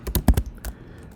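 Several quick keystrokes on a computer keyboard while entering a Linux LVM command, a cluster of sharp taps and then a lone final press, close and clear with no talking.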